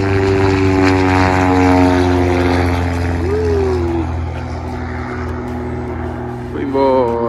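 An experimental propeller airplane drones loudly nearby as it takes off, a steady engine and propeller hum that slowly recedes while people talk over it.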